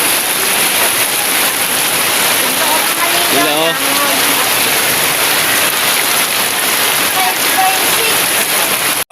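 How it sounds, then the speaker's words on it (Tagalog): Heavy rain pours steadily and loudly for the whole stretch, a dense unbroken hiss, while people talk underneath it. "Lakas ng ulan."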